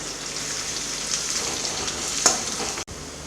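Garlic frying in a pan for Indian dal tadka, a steady close broadband sizzle with faint crackles and one brief stirring clatter near the end, without voices.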